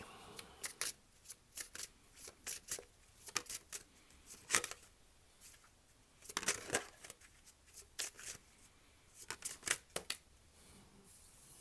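Tarot cards shuffled by hand for a reading, a run of crisp riffling bursts and soft slaps in uneven clusters, close and clear with no talking.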